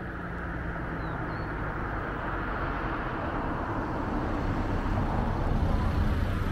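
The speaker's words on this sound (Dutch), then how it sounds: "Er komen toch wat auto's aan." Cars on a road in Spain approach from afar, a broad rolling tire-and-engine hiss that swells gradually louder over several seconds, with no talking.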